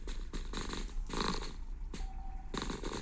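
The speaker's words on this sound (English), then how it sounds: "I also have cat purring videos." A cat's purr played from a recording beside a resting pet cat, a low rhythmic rumbling in repeated inhale-exhale pulses, close and moderately quiet with no talking.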